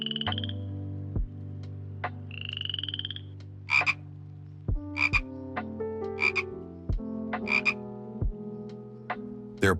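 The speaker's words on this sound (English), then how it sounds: "These frogs are among the most unusual and dangerous predators in the jungle" Poison frogs in the Amazon rainforest call in loud, close, repeated croaks, with sustained tonal notes and sharp, pulsing bursts overlapping in a busy chorus.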